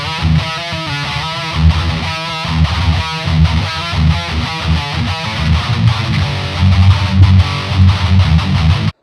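Heavily distorted electric guitar plays loud, dense chugging riffs with sustained saturated chords, steady and full throughout with no voices.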